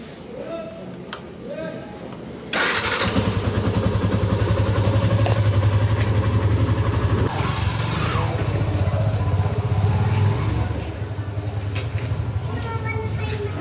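Motorcycle engine on a ride toward Godavari near Kathmandu, starting up after a few seconds of quiet and then running steadily and loudly up close, a constant low drone with slight rises and falls in pitch.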